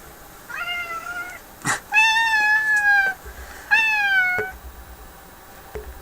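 A heavy house cat meows repeatedly indoors, three drawn-out, rising-and-falling calls close to the microphone, separated by short thumps and handling noises, with no talking.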